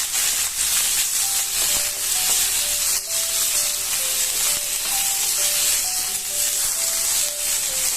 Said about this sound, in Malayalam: ഇനി നമുക്കിതൊന്ന് നന്നായിട്ട് ഇളക്കാം.